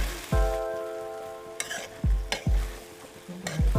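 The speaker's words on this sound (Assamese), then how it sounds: "ভাতখিনি দি পেলাই মই লৰাই দিম" Chicken fried rice stirred and tossed in a hot pan, a spatula scraping and knocking against the metal in a few sharp strikes over a continuous soft sizzle, close and clear with no voices.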